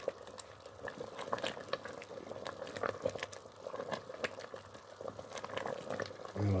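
Tuna curry thickened with flour simmering over low heat, a steady soft bubbling with small popping ticks, close and quiet, continuing evenly throughout.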